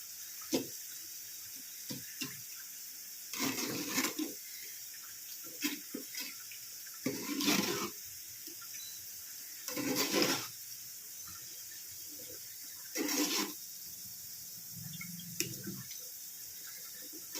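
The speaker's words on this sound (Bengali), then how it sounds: "আমি এদিকে একটু কচুটাকে জল ঝরিয়ে নিচ্ছি, হাতা দিয়ে চেপে চেপে, খুন্তি দিয়ে চেপে চেপে।" Boiled taro leaves being pressed with a ladle to drain off water, giving intermittent watery splashes and trickles in short bursts with quiet gaps between them.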